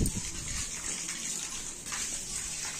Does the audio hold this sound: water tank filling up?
yes